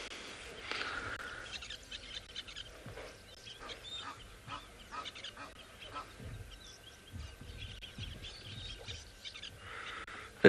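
Egyptian geese call at a South African safari waterside, with repeated harsh honks and cackles, fairly faint and distant, over quiet outdoor ambience.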